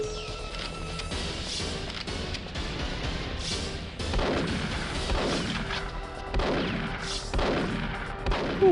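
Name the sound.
gunfire from a video game, Perfect Dark PC port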